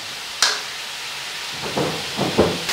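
Meat browning in a pan on a medium gas flame gives off a steady hiss, with a sharp clatter early on and a few swelling sizzle bursts near the end.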